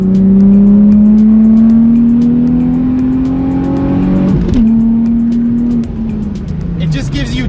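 A car with a weighted shift knob downshifts to third, the engine droning loudly and steadily, then dipping and blipping briefly around the gear change before settling; a person talks over it.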